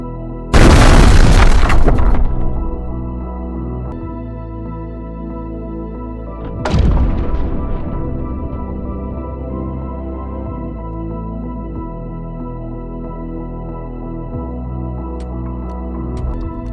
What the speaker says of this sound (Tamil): அந்த கப்பல் வெடித்ததுலேருந்து வந்த சத்தம் ஆயிரம் கிலோமீட்டர் தாண்டி கேட்டுச்சுன்னு சொல்கிறாங்க